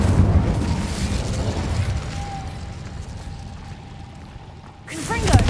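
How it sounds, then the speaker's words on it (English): Incendio fire spell cast in Hogwarts Legacy: a steady roaring, crackling rush of flame under game ambience, ending in a sharper burst as a voice calls out. "Incendio!"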